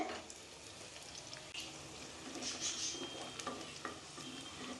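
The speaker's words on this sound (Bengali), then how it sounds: "পেঁয়াজটা কিন্তু আমি ভেজে নিচ্ছি" Onions frying in hot oil in a clay pot on a gas stove: a steady, soft sizzle with occasional stirring scrapes, no talking.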